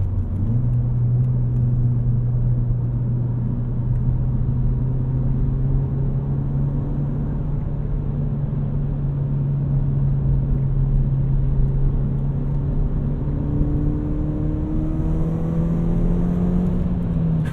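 A Ford Fiesta ST hot hatch, 240 hp with about 240,000 miles, drives steadily with a droning engine hum and road rumble, the engine pitch holding level and then rising slightly toward the end.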